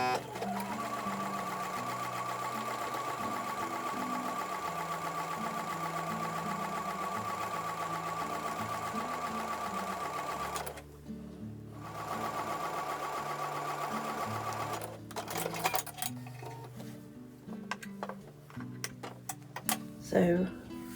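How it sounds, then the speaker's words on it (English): A sewing machine runs steadily stitching a quarter-inch seam on both sides of a drawn line on an Amish Star quilt block, a fast even whir that pauses briefly, then resumes in short bursts with handling clatter. "I'm going to take that over to the sewing machine and sew a 1/4 inch seam on both sides of the line."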